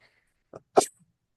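A single sharp sneeze during a legislative committee meeting, with a brief intake of breath just before it, close and fairly loud, followed by a short quiet.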